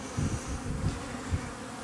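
Honey bees buzz around a small nucleus hive in a windswept apiary, a soft, continuous hum with a few louder swells as individual bees pass close.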